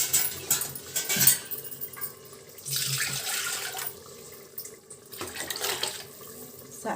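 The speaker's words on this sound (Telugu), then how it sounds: "అందుకని వాటర్ పోస్తాను నేను" Water is poured in bursts into a pot of tomato rasam, with gushing splashes that stop and start, some clinks of a utensil, and no talking.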